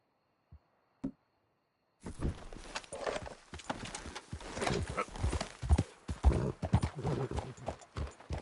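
Horse hooves gallop in a PS4 open-world western video game, a rapid, loud, steady clip-clop rhythm that starts abruptly after a couple of faint knocks and keeps on to the end.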